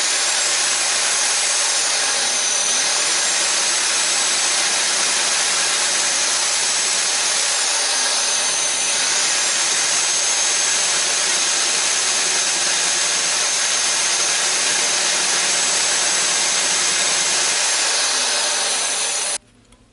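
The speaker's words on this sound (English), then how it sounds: "Instead I'm going to use this drill and drill into it on an angle like this while holding it in the vise." Power drill boring into a coin clamped in a vise while making a coin ring, a continuous high whirring grind held steady for nearly twenty seconds, then cutting off abruptly.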